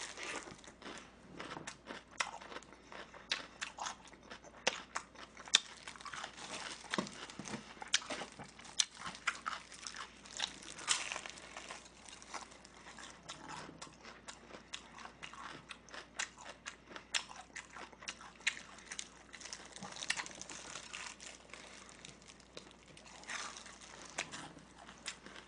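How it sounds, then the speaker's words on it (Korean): Someone bites and chews BBQ Golden Olive fried chicken up close. Crunchy crackles and wet chewing repeat irregularly for about 25 seconds at a moderate, steady level, with no talking. "치킨 오늘 굉장히 늦게 먹고 있는 건데"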